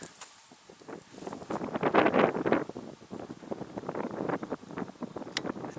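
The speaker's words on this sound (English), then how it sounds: "It's very windy." Strong wind in the Arizona desert near the Black Mountains at sunset, gusting and buffeting against the microphone in uneven rushes, close and noisy.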